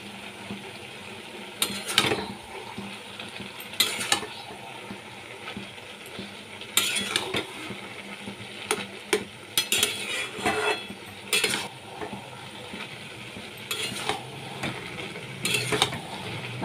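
A utensil stirs hilsa fish heads with Kashmiri chili powder in a pan, making intermittent scraping and clinking strokes spaced a second or two apart, near and moderately loud, with a faint sizzle underneath and no talking.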